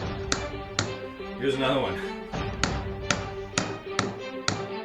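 Sharp, evenly spaced hammer blows drive nails into a door frame, about eight strikes in a steady rhythm, close and distinct, with a brief spoken remark between them.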